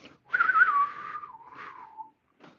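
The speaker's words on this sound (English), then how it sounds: "I try to do the old western whistle" A single person whistles a drawn-out, wavering old western-style melody that slides downward, pauses briefly, then ends with a short breathy note, outdoors at a ghost town movie set.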